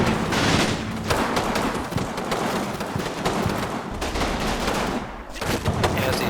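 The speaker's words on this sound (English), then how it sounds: "the second tank is really laying down some suppressive fire there" A tank lays down suppressive fire in the video game Combat Mission Normandy, with continuous, rattling gunfire and dense overlapping shots throughout, loud and unbroken, with faint voices beneath.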